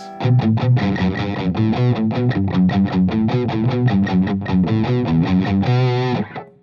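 A fast distorted electric guitar riff, rapid chugging palm-muted notes in a driving rhythm, ending on a sustained ringing chord.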